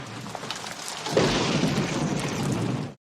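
Rain and a rumble of thunder from the film Death Becomes Her, a softer patter that swells abruptly into a loud, steady downpour with a low thunder roll, no voices.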